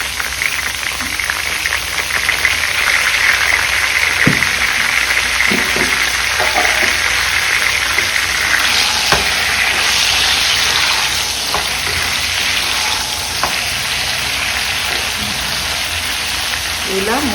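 Ivy gourd and brinjal curry sizzling steadily in a hot pan with salt added, a continuous frying hiss broken by occasional clinks and scrapes of a stirring spoon, close and loud.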